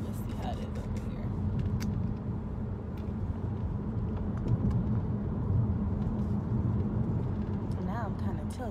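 Car interior drone while driving on the road, a steady low engine and road rumble running throughout with a person talking over it.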